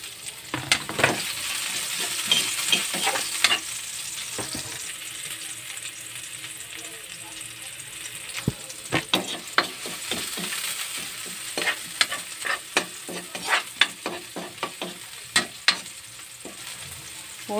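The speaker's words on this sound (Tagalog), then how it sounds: "gisa na natin ang bawang, saka sibuyas" Garlic and onion sautéing in a frying pan: a steady sizzle broken by repeated sharp scrapes and clacks of a utensil stirring, loud and close, bunched toward the end, with no talk.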